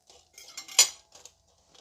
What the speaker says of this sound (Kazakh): Ет әбден пісті және оны сорпасынан сүзіп аламыз.